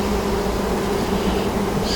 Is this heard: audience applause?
no